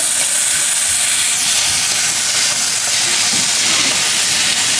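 Chinese fried rice hisses loudly and steadily in a pot while it is stirred, a dense close sizzle that fills the whole stretch with only faint scraping beneath.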